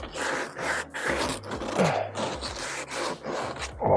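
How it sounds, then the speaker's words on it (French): Hand sanding during a repair job, a steady rasping rub in repeated strokes, close and fairly loud, with short pauses between passes. "On va poncer un peu."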